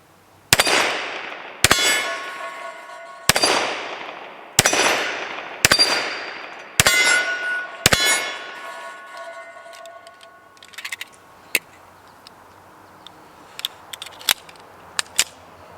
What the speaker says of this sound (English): Let's go back to the old hostage popper. That's about my favorite thing to shoot.